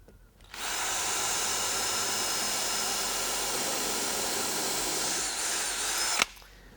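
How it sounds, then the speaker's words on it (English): Power drill boring into a concrete countertop mold: one sustained, loud whining run starting after a brief pause, holding steady for about five and a half seconds, then stopping with a small clunk. "Okay, and then use the drill again."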